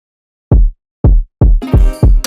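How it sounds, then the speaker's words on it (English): Punchy, deep kick drum sample in FL Studio for a 2000s R&B drum pattern, three isolated booming hits spaced evenly, then layered with brighter percussion on two further hits, loud and dry. "Now I'm gonna put a kick."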